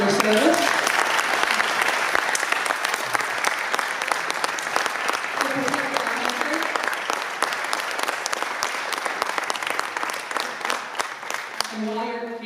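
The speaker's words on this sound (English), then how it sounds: "I think we all should give this man a round of applause for his service" Sustained applause from an audience at a civic club meeting honoring a former Air Force MP, dense clapping throughout with a few voices speaking and cheering underneath, fading slightly near the end.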